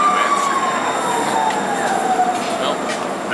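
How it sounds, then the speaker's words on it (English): A train passes as a steady, loud rumble and rolling noise, with a long gliding squeal or horn tone slowly falling in pitch throughout, heard fairly close with no talk. "Well, that's my train."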